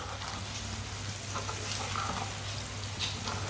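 Spices (crushed red chili and turmeric) frying in a pan for masaledaar bhindi, a steady soft sizzle with a low hum running throughout, even and continuous with no talk.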